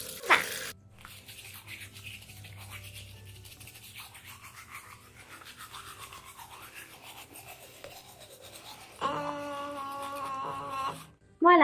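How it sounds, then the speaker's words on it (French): A toothbrush scrubs teeth with a steady, close scratchy brushing rhythm, fairly soft throughout, followed near the end by a short burst of running water from a tap. "maintenant il suffit de se brosser les dents"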